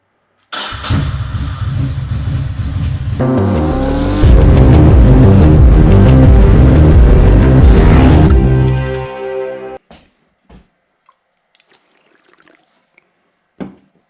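A Ducati Monster 620 motorcycle cranks over and fires up, then idles loudly and steadily before rising in pitch, and cuts off abruptly into near silence broken by a few faint clicks.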